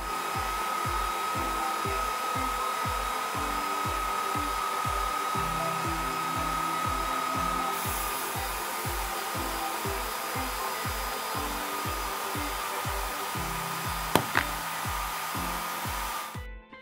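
A Sculpfun S70 Max laser cutter works through a thick wood board on two passes, giving a steady whirring fan hum with a rhythmic low ticking pulse throughout and a faint high whine.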